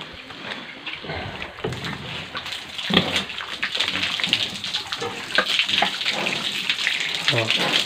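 Water splashes and pours steadily to rinse soap off pigs, a close, continuous wet spatter with droplets and bursts that grow louder partway through.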